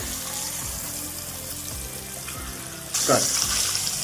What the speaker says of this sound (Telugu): గుడ్లు ఫ్రై అయిపోయినాయి కదండి